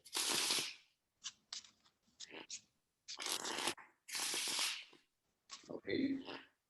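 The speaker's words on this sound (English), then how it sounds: "shuffle it again" Deck of playing cards being shuffled in several quick riffled bursts separated by short pauses, close and crisp, with a bit of talk mixed in.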